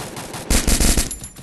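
Rapid machine gun fire in the video game Free Fire, a loud close burst of quick repeated shots that fades off after about a second.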